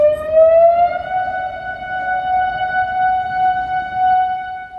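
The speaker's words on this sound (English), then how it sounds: "residents reported hearing loud sirens and a public announcement" A loud, steady tsunami warning siren wails continuously in Depoe Bay, its tone rising at first and then holding, with a constant rumble beneath it.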